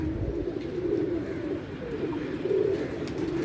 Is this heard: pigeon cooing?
yes